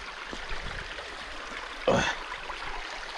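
Water trickles and flows steadily in a small Carpathian mountain stream, with a brief louder splash partway through.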